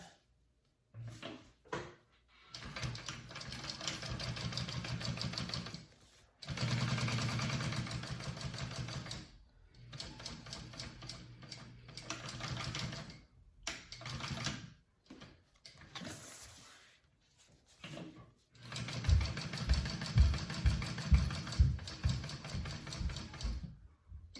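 A sewing machine stitching a slip pocket onto a bag, running in several close bursts of steady mechanical whirring separated by pauses, with a faster rhythmic clatter near the end.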